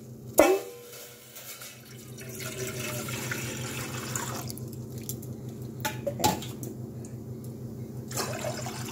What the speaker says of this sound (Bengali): প্রথমে আমি জল দিয়ে দেব